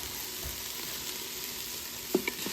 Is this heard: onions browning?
yes